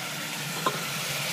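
Chicken, beef and garlic stirred in a hot frying pan, a steady close sizzle with a brief scrape of the utensil partway through, no voices.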